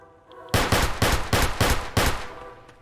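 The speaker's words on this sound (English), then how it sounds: "I hear shooting." Six rapid, loud gunshots crack out in an even rhythm on a South Bronx street, each sharp blast ringing briefly before the next.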